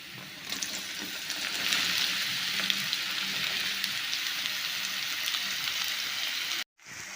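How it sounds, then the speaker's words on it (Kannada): Ridge gourd pieces fry in ghee with browned garlic, giving a steady close sizzle that runs without a break and stops abruptly near the end. "ಇದು ಎಣ್ಣೆ ಒಳಗೇ ಸ್ವಲ್ಪ ಹೊತ್ತು ಫ್ರೈ ಮಾಡ್ಕೋಬೇಕು"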